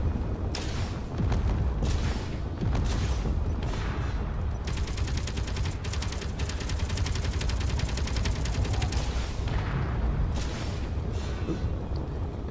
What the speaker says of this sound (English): a decent amount of Gatling guns to give you the firepower you need to make decent strafing